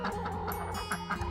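Meat chicks clucking nearby inside a house in a short burst of repeated soft calls, with a steady hum underneath.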